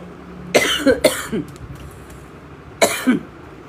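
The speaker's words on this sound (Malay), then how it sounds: "Terbatuk aku" Three harsh coughs up close, two in quick succession and another after a short pause, with no talking.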